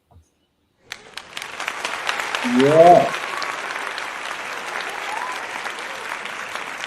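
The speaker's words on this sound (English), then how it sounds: "Let's give it an applause here. And my applause can come on." A recorded applause sound effect starts after a moment of silence and swells into sustained clapping and cheering, with a man briefly exclaiming over it partway through.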